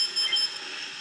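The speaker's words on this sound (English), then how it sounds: "I don't know why it's beeping" A small RC mini racer car beeping, thin high electronic tones sounding a few times over a faint hiss in roughly one second.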